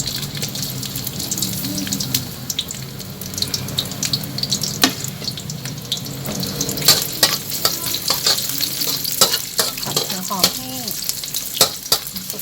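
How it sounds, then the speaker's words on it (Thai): Onion stir-fried in a little soybean oil sizzles loudly and steadily, with frequent sharp clicks and scrapes of a utensil against the pan throughout. "เอาหัวหอมลงไปผัดก่อนค่ ะ"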